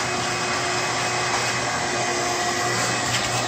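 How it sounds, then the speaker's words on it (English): A household vacuum cleaner runs steadily and close by as someone vacuums indoors, a continuous whining motor drone with broadband airflow noise and no pauses. "here he is vacuuming."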